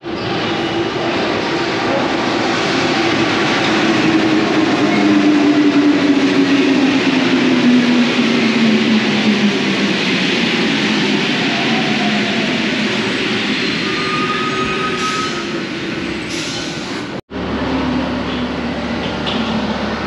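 A Paris Metro line 2 train rumbles and whines at the terminus, loud and close, with a gliding motor pitch as it moves, ending in a sharp cutoff and quieter station ambience with faint voices.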